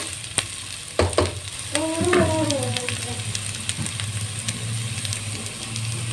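Shredded cabbage frying on low heat for white pasta, a continuous soft sizzle with a few sharp utensil knocks and scraping stirs near the start, then an even background crackle.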